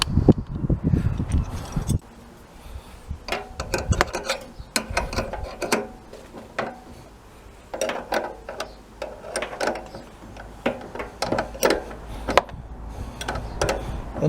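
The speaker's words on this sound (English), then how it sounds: "The nut, of course, has to be a nylock nut, which means you've got to unthread it all the way." Nut being unthreaded by hand or wrench while the fuel tank comes off a Honda CB1300 motorcycle, giving close, irregular metallic ticks and ratchet-like clicks in scattered bursts with brief pauses, no talking.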